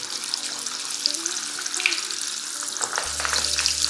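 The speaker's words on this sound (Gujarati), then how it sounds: "એકદમ ડીપ ફ્રાય કરવાના છે દરેક રીંગણને." Whole brinjals deep-fry in hot oil over a low gas flame, giving a continuous bright crackling sizzle with small pops. A low hum joins near the end.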